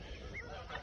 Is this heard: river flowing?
no